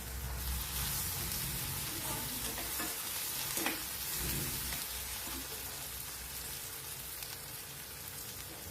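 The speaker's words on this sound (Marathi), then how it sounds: "ते कोथिंबीर, टमाटा आणि कांदा हे तेलावर छान परतून घ्यायचे अशा पद्धतीने।" Coriander, tomato and onion fry in oil with a dense, constant hiss of sizzling, steady and fairly even, broken only by faint stirring scrapes.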